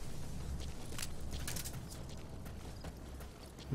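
Horse hooves clip-clopping steadily at a walk in the Metal Gear Solid V: The Phantom Pain video game, a continuous close rhythm of hoof falls over a dense background bed.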